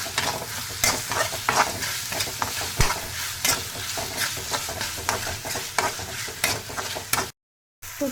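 Arai keerai greens and softened tomatoes sautéing in a pan, a continuous close sizzle broken by repeated scrapes and clinks of a spoon stirring at an uneven pace, then a brief cut to silence near the end.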